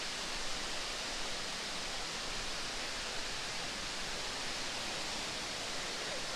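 Waterfall near a stream and bridge on a hiking trail, a steady, dense rushing hiss of falling water that stays even throughout with no talking.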